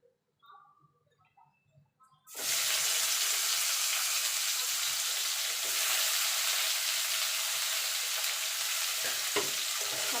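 Bitter gourd slices drop into hot oil left from frying potatoes, bursting into a loud, steady, close sizzle that continues unbroken after a few quiet seconds of kitchen handling.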